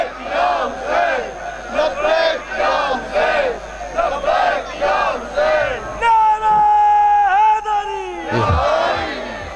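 Large crowd at a religious gathering chanting loudly in rhythmic call-and-response phrases, several rising shouted bursts with a preacher's amplified voice leading, then a sustained loud held cry near the end.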